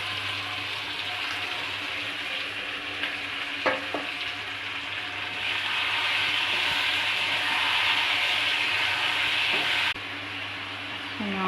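Prawns frying with onions in a pan, a steady close sizzle and hiss with occasional scraping stirs and a brief clink, growing a little louder midway.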